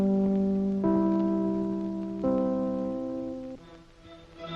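NBC radio network chimes from a 1948 broadcast: three clear, sustained bell-like tones struck one after another in a rising-then-falling sequence, each ringing and overlapping the last, played alone with no voice.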